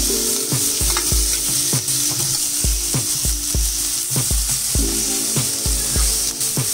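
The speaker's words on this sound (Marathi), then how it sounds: "कांदा असा ढवळून घ्यायचा." Onion sizzles loudly in oil in a nonstick pan while a spatula scrapes and taps against the pan in a quick, regular rhythm, close and without any talking.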